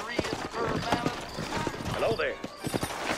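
A horse gallops in the Red Dead Redemption video game, with rhythmic clip-clop hoofbeats under steady voices talking. A brief whinny-like sound occurs midway.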